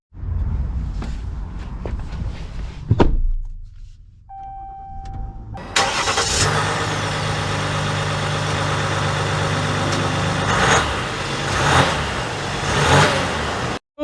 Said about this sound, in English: Setting off here in the EcoDiesel